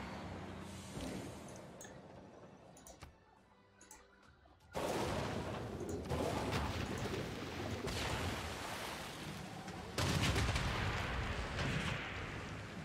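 Explosive bombing booms in the strategy game Civilization VI, a series of heavy, rumbling blasts that grow louder partway through and sustain as a dense, roaring barrage.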